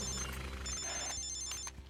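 An electronic telephone ring trills steadily at close range, then cuts off near the end, leaving a low background rumble.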